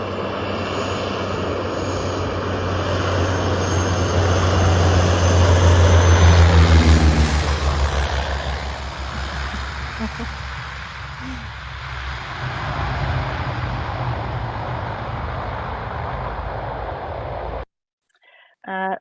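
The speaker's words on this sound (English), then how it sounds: "And this is the Twin Otter." A Twin Otter propeller plane drones loudly on a remote, rubbly airstrip, its engine hum swelling and then easing over several seconds while someone talks over it, before cutting off abruptly near the end.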